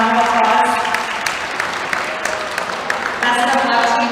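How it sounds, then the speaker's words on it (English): Audience in a high school gymnastics gym applauding for the gymnasts at a vault and floor meet, steady clapping throughout with a public-address voice talking over it. "So that we could all give them a round of applause."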